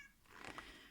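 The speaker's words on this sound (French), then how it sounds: "Oui, mon chat." A cat gives one short, faint meow, close by in an otherwise quiet indoor room.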